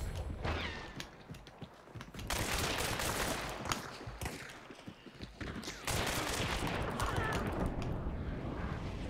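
Shotgun gunfire in the video game Hunt: several loud, sharp blasts with mechanical clacks amid a dense, noisy in-game soundscape, with no talk over it.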